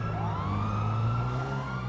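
Police sirens wail in GTA 5 as emergency vehicles chase through a city, steady overlapping sweeping tones ringing loud and continuous over a low engine rumble, with no one talking.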